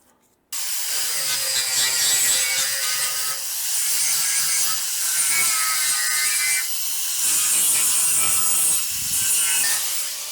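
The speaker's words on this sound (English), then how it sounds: "run my grinder down through here and grind some of this paint off" An angle grinder strips paint from the side of a 1965 Chevrolet C10 truck bed, a loud continuous abrasive whine with shifting pitch that starts abruptly and runs throughout with no talking.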